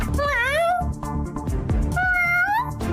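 A person's voice imitates a cat, giving two drawn-out, rising and falling meows, close and clear, with a short gap of breathy voice sounds between them.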